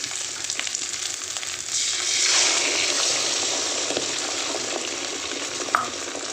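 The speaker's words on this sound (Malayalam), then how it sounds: "ഇനി നമുക്ക് മുട്ട ഒഴിച്ച് കൊടുക്കാം" Egg poured into drumstick leaf thoran frying in a pan, sending up a steady loud sizzle that swells after the pour, with a sharp utensil tap near the end.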